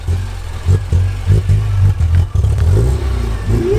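A Ford Fiesta fitted with an RS accessory exhaust back box revs outdoors in a series of loud, close throttle blips that rise and fall, with a deep burbling tone between bursts.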